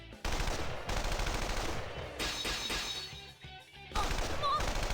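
Heavy artillery gunfire from the Persona 4 Arena game rattles in dense, loud bursts with brief pauses between them, and crashing impacts are mixed in.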